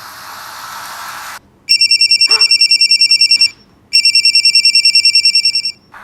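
A telephone rings with a fast electronic trill, two long bursts separated by a short pause, loud and close, with no voices.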